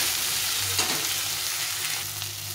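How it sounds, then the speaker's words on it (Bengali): Green banana pieces fry in a pan of oil without salt or turmeric, a soft close sizzle with faint stirring. "এই কাঁচা কলাটা ভাজা ভাজা হয়ে গেছে"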